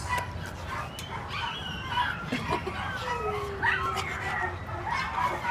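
Dogs at a rescue shelter giving scattered barks and yips with some whimpering, moderately close, amid general kennel noise with a person talking intermittently.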